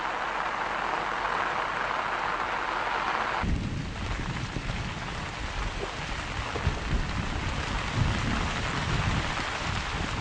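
Heavy rain pours continuously while deep thunder rumbles roll in partway through, a loud, dense wash of water with low booming swells and no voices.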